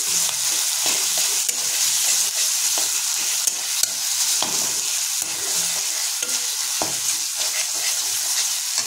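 Chopped tomato sautés steadily in a wok over low flame, a dense, continuous sizzle broken by frequent clicks and scrapes of a spatula stirring, close and fairly loud with no talking.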